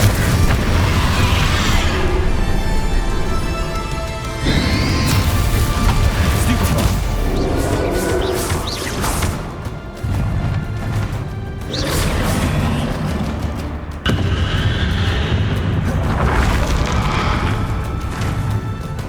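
Bombarda explosion spells go off in Hogwarts Legacy, heavy booming blasts and crashing debris in repeated loud bursts amid dense combat noise and music.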